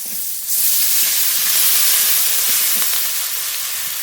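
A ground paste of cumin, ginger, garlic and green chilli sizzles in hot oil, making a loud, steady hiss that swells after a brief quieter start and carries on without voices.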